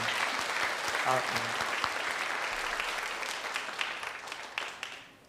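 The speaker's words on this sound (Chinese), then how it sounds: "我们给他鼓掌哈" Church congregation applauding during a Sunday worship service, sustained clapping that gradually fades toward the end, with a brief faint tone partway through.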